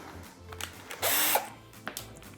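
A short burst of a power drill whirring for about a second as it drives a self-tapping screw during electric standing desk assembly, amid quieter mechanical clicks and handling noises.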